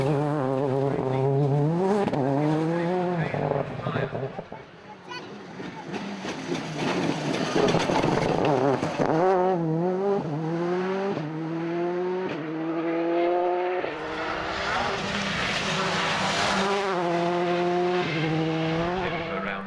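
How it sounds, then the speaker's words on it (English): A rally car roars past up close on a stage of the 2013 Jim Clark Reivers Rally, Scottish Rally Championship, engine revving hard through gear changes, rising and falling in pitch with tire noise. "David Bogey in the Cage Max livery car now"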